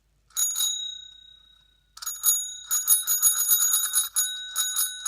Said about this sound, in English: The bike bell.